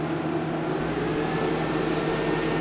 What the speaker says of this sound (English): All right, 1800 watt microwave.